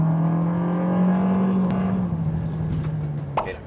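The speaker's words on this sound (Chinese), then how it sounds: "那一脚油门动力。" A Perodua Traz, a family SUV, accelerates under a heavy throttle press, its engine drone held steady and close from inside before easing off near the end.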